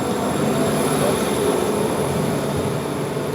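Orlan passenger train on the Ufa–Kumertau route, heard from inside as a loud, continuous rumble of rolling wheels and rail noise with a faint high whine, steady throughout.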